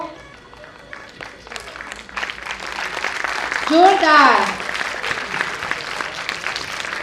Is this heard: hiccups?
no